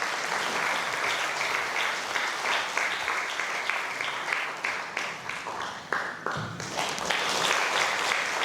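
An audience at an award ceremony for independence activists applauds to welcome performers, a dense and steady round of clapping from many hands that swells again toward the end.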